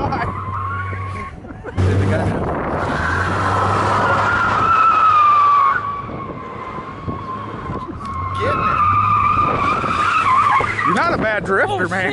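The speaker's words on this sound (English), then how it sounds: "The brakes keep locking up." A homemade Santa sleigh vehicle skids and screeches through donuts with its brakes locking up, the loud tire squeal rising and falling in long sweeps while a steady engine drone runs underneath and people talk over it.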